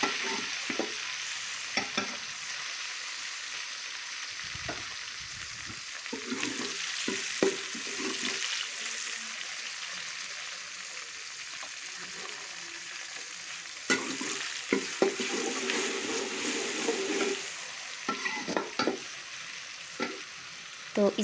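Onions, tomatoes and green chillies fry and sizzle steadily in a pan, with occasional stirring scrapes and clatter throughout and no talk.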